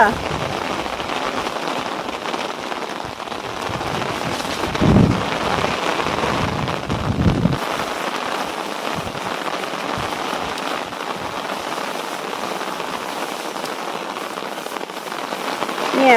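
Heavy rain pours down steadily onto surfaces, a dense, loud hiss that goes on throughout, with a few louder bumps partway through.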